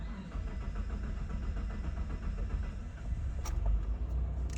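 A hot car engine, coolant at 83 degrees, cranks and turns over at low level. Rumbling mechanical noise runs throughout, with a short burst of clicks near the end and no talk.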